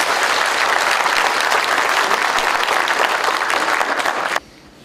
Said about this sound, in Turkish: Bir bunları alkışlayın bakalım.